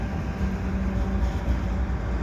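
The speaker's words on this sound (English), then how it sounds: "There's the end of the train." A CN freight train crossing the Lachine Canal bridge in St Henri in winter, a steady low rumble and rolling rail noise as the last cars pass, continuous and moderately loud.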